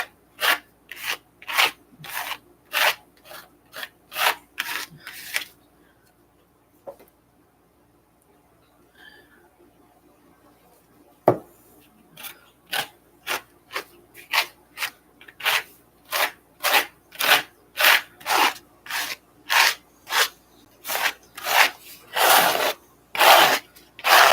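Repeated rasping scrapes of a tool dragging yellow paint down a paper page, a steady run of short strokes, a quiet pause in the middle, then faster, louder strokes toward the end.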